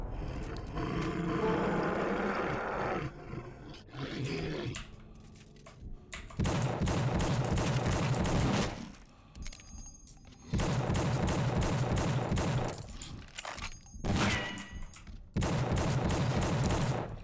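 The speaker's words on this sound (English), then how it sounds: "I think he just shot me through the wall." Enemy gunfire in The Suffering comes as loud, dense bursts of rapid automatic shots in several separate volleys, broken by short gaps, with no talking over it.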